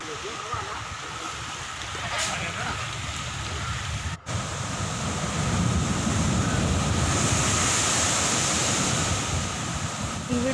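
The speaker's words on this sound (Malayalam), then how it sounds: "അത്രയ്ക്ക് ഭയാനകമായിട്ടാണ് ഓരോ തിരമാലയും വന്നടിക്കുന്നത്" Rough sea waves crashing on a Kerala shore where seawater is flooding onto the road, a dense continuous roar that swells louder in the second half, with strong wind on the microphone and a voice briefly audible early on.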